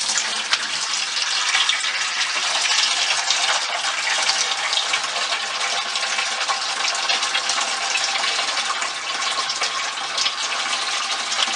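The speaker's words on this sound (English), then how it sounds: "I got the hose here that we're going to use to siphon out water" Water runs steadily through a hose, siphoned out of a reef aquarium during a five-gallon water change, making a continuous close gushing rush with no pauses.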